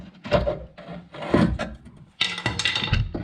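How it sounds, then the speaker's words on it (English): A front control arm bushing being pried out of the subframe on a Hyundai Santa Fe, giving close, loud scraping and creaking bursts of metal and rubber under strain, ending in a sharper grinding release. "next we're going to pry the control arm front bushing out of the subframe"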